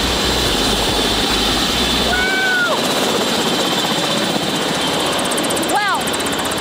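A helicopter flies in to land at a Queensland resort, its rotor and engine noise loud, steady and close throughout, with a couple of brief high chirps over it.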